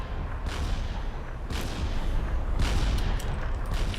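Battleship guns firing in the strategy game Supreme Commander Forged Alliance, several heavy booming volleys at irregular intervals over a dense, continuous rumble of distant battle.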